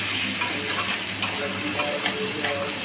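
Mutton curry with potatoes being stirred and fried in a pan, a steady sizzle with repeated scraping strokes of the spoon, close and fairly loud, no voices.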